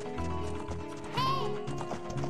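Horse hooves clip-clop in Zelda: Ocarina of Time over background music, with a brief whinny-like cry in the middle.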